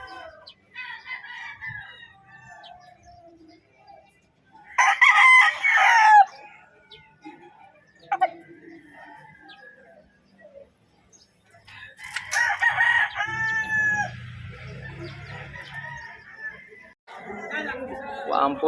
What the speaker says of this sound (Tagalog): Poging-poging yung mga manok.